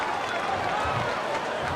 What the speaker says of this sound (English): You can hear the crowd in the background.